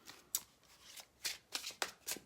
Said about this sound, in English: just about ready to stop shuffling and do the reading